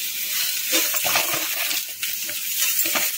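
Vegetables tumble into a pan where raw banana and sweet potato have been lightly fried, bringing bright clinks and rustles of pieces landing over a constant hissing sizzle of hot oil.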